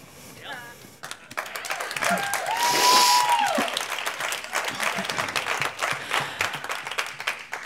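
Audience applause and clapping during a comedy monologue show in Vancouver, swelling from a scattered start into loud, full clapping with cheers and whoops, with a voice heard over it early on.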